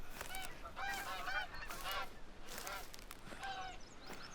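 A small flock of geese honk in quick, repeated bursts in theHunter: Call of the Wild, faint and some distance off, in a quiet outdoor setting.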